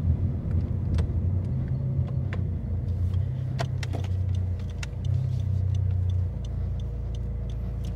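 Honda Civic with a modified turbo engine, tested in drive, which loses power when pressed hard: a close, steady low engine rumble with a few surges in level and scattered light clicks and rattles.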